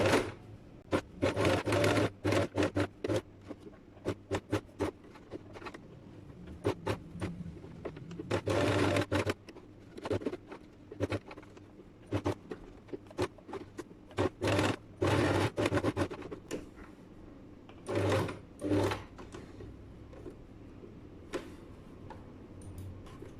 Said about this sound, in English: Okay, I'm gonna start sewing.